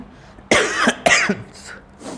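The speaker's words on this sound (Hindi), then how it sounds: "थोड़ा ज़ोर से बोल दे रहे इसलिए खांसी आ जा रहा है" Two loud, harsh coughs close up from a man with a cold, then a couple of softer follow-up coughs.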